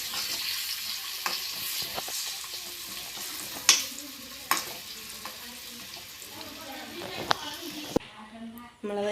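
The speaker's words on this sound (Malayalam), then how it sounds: "ചൂടായി വന്ന നെയ്യിലേക്ക് നമ്മൾ അണ്ടിപ്പരിപ്പൊന്ന് ഇട്ട് കൊടുക്കാം" Cashew nuts fry in hot ghee in a pan, a soft sizzle running under scattered clicks and knocks from stirring, with a couple of sharp utensil taps and a brief watery rush near the end, close but fairly quiet.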